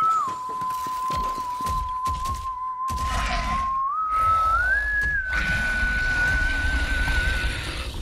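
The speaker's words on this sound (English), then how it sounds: "Someone was whistling." Someone whistles a steady, sustained tune in the Borderlands 3 Guns, Love and Tentacles DLC, a clear, loud tone that holds, steps up in pitch, and continues over rumbling background game sound.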